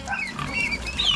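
Pigs on a small Filipino farm with goats grunt and squeal at feeding time, a continuous close jumble of oinks and high squeaks with no pause.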